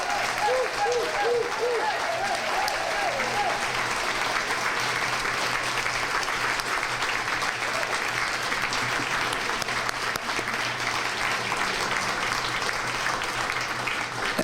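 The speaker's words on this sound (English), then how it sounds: "One more big applause for our departing mayor of Music City," An audience in Nashville applauds departing mayor Bill Purcell at an awards show, sustained, dense clapping from a large crowd lasting throughout, with a brief voice audible at the start.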